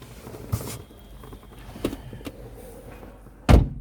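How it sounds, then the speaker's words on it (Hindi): A car door on a Hyundai Verna is pulled shut, ending in a loud, close, solid thud, preceded by softer clicks and shuffling of someone settling into the driver's seat. "दरवाज़ा बंद कर ले।"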